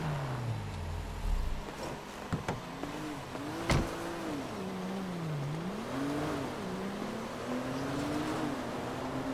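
An in-game Land Cruiser in GTA V pulls out of a garage, its engine humming and rising and falling in pitch as it accelerates, with a few sharp clicks and knocks along the way.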